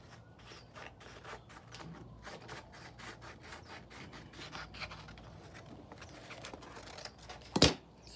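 Soft, steady rubbing and rasping of 800-grit sandpaper on a crankshaft journal, repeated light strokes close by, ending with a brief sharper scrape.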